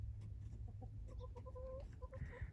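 Chickens and roosters clucking in a backyard flock, a series of short close clucks and calls over a steady low rumble of background noise.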